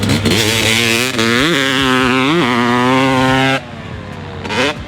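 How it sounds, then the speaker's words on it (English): A Yamaha YZ325 two-stroke motocross bike idles and warms up at the Glen Helen track, its loud, close, buzzy engine held steady with a couple of quick throttle blips before it drops to a lower idle and revs once more. "Before we jumped on his bike, Mike Alessi made sure that it was nice and warm for us."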